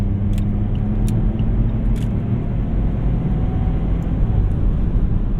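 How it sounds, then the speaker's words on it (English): A Saab 9-3 Aero XWD sedan launches hard, its engine a loud, deep, sustained rumble that holds steady throughout with no voices. "on those launches, that's one thing you got to keep in mind is that it's going to blow right through first gear"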